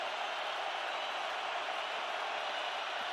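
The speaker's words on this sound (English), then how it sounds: "Crowd doing its best to jam communications" Dense roar of a large stadium crowd at an NFL game, Packers at Vikings, the first game at U.S. Bank Stadium; a steady, loud wall of noise with no breaks.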